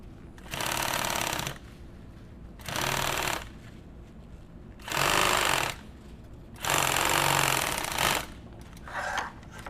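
A sewing machine stitches through a panel in four loud, buzzing bursts of about one to two seconds each, separated by short pauses with a faint motor hum, close and unaccompanied.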